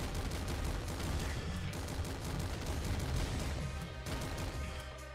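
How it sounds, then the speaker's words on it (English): Rapid, dense automatic gunfire from the auto hand cannon in the video game Nuclear Throne (Ultra Mod): loud, continuous overlapping shots with crunchy impacts filling the whole stretch, and no voices. "Auto hand cannon."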